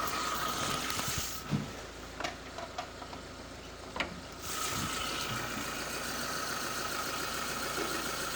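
A 1987 Honda Civic Wonder engine idles with the hood open, a steady mechanical hum broken by a few sharp ticks and clicks and a brief dip before the running sound returns evenly.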